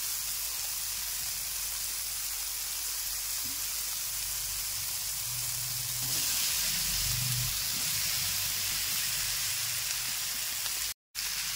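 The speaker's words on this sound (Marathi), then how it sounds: "आता आपण त्यामध्ये आपली तोंडली टाकून देऊ" Ivy gourd pieces dropped into hot tomato in a pan set off a steady, close sizzle and steamy hiss that swells midway, with a few low clunks of the vegetables landing.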